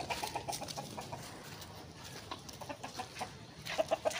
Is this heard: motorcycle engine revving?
no